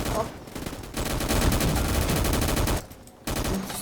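Rapid bursts of gunfire in a Roblox military game crackle almost continuously, loud and dense, with a brief lull near the end before shooting resumes.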